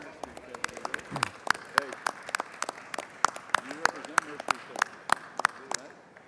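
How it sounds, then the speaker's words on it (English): Members and guests in the Texas House chamber applaud, a fairly faint, distant patter of scattered claps in an irregular rhythm, with murmuring voices underneath. "help me welcome them to their Texas Capitol with a big round of applause"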